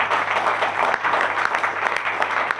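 Seminar audience applause in a hotel hall, steady dense clapping from a large crowd, loud and continuous throughout with no pause.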